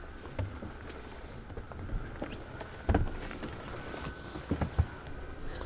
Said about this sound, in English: And we are sailing along around 5 knots still.